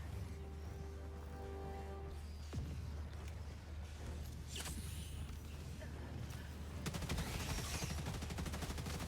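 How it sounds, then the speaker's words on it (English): Gatling sentry turret firing in the Helldivers II video game, a dense stream of rapid automatic gunfire rolling on steadily under game background noise, intensifying toward the end. "So let's throw in a Gatling sentry."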